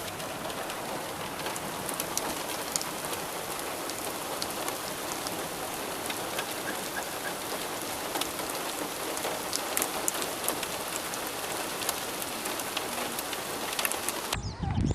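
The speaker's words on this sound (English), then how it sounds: "thundery thunderstorm of epic proportion with thunder and hail" Heavy rain pours down during a thunderstorm with hail, a dense, steady hiss of drops hitting surfaces that continues unbroken and fairly close for the whole stretch, with no talking.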